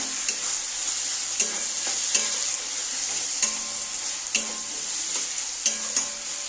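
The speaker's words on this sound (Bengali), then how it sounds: "আবার একটু নেড়ে দিচ্ছি" Ridge gourd with dried shrimp stirred in a frying pan, a steady close sizzle broken by regular scraping spatula strokes about once a second.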